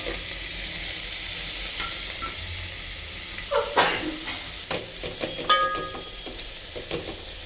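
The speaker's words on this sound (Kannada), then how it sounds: "ಈರುಳ್ಳಿ ಹಾಕಿದ್ಮೇಲೆ ಹಾಕ್ಬಿಟ್ಟು ಸ್ವಲ್ಪ ಹಸಿ ಸ್ಮೆಲ್ ಹೋಗೋವರೆಗೂ ಈ ಥರ ಎಣ್ಣೆಲಿ ಹುರ್ಕೋಬೇಕು" Garlic and onion fry in oil in a pan for a ragi mudde and avarebele curry: a steady sizzle with occasional stirring scrapes and clinks in the second half.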